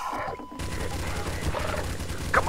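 Gunfire in Garry's Mod, a rapid dense burst of shots that runs continuously and loud through the moment, with no voices over it.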